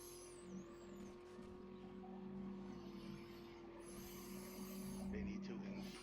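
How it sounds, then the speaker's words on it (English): A four-wheeler mini monster truck drives in the video game 7 Days to Die, its engine droning steadily and whining at higher pitch, while someone talks over it throughout. "it's a four-wheeler. It's basically a mini monster truck."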